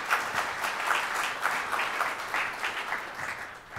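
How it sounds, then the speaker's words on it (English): Audience applause after a speaker introduction at a DevOps conference talk, a dense steady clapping that fades slightly toward the end, with no talk over it. "Give him a round of applause, ladies and gentlemen."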